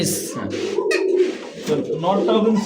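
Domestic pigeons kept for sale: close, low throaty coos repeat in short bursts, mixed with wing rustles and brief scuffles, and someone talks over them.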